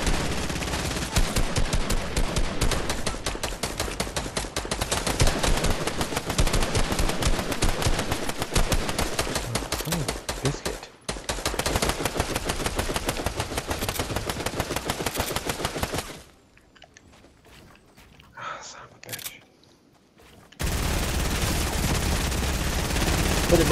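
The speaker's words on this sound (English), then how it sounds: "somebody shot me in the back" Dense, rapid gunfire from the video game Fortnite rattles almost continuously, with long automatic bursts, a brief lull of quieter game sounds, then shooting resuming loudly.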